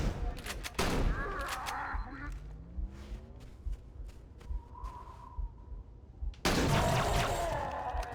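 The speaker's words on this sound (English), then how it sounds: "Shotgun's got some very satisfying kick to it." Shotgun blasts in Halo CE, loud sharp bursts at the start and end with scattered smaller impacts and effects in between, with a brief voice in the mix.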